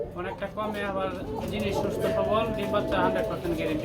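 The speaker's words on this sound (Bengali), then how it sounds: "বিশ থেকে পঁচিশ পেয়ার কবুতর আছে বন্ধুরা" Pigeons in a home loft of around twenty to twenty-five pairs coo in low, warbling phrases close by, with someone talking over them.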